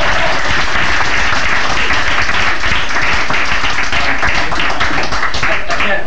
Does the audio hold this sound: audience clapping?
yes